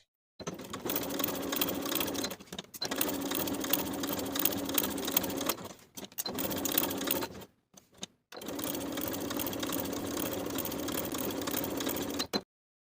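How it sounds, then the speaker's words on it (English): A sewing machine runs at a regular stitch length along the inner finished edge of a coat pocket facing for a lined McCall's 7847 coat, humming steadily in three long close bursts with brief stops between them. "sew with a regular stitch length along that inner finished edge"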